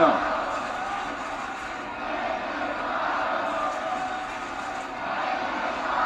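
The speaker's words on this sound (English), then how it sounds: "You can hear this crowd with a rally support for Styles." A large wrestling arena crowd at WWE Monday Night Raw roars and cheers from a distance, a broad steady rumble beneath a commentator talking throughout.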